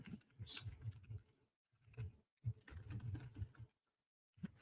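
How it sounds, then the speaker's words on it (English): Someone types on a computer keyboard in irregular bursts of quick clicks, close and moderately quiet, with short pauses in between. "Sorry, I'm really bad at typing"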